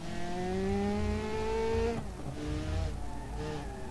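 Simulated car engine from BeamNG.drive, played with a G29 wheel, a steady revving tone climbing through gears with brief shift drops and some tire noise, loud and continuous without talk.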